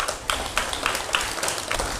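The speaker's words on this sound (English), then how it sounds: "give your class fellows a round of applause" A small group of students clapping for classmates in a Montessori school kitchen, a short, sparse patter of claps with separate sharp taps, and no talk.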